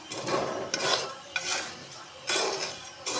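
Black chickpeas roast in very hot salt in a pan, stirred with a utensil that makes repeated scraping, rattling bursts of gritty grains against metal, close and fairly loud, with no talk.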